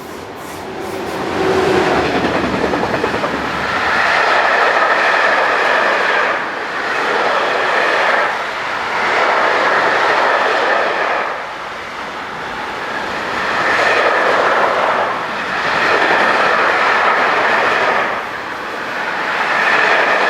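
A northbound container train rolls past with a Class 185 locomotive at the rear, a loud continuous rumble that swells and fades in waves as the wagons pass close by.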